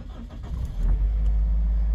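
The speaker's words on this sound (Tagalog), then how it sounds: "Paandar ko lang yung aking sasakyan para makapag-aircon na ako dahil napakainit." A car engine starts on a hot day in Japan, catching with a low rumble that settles into a steady idle, close and continuous.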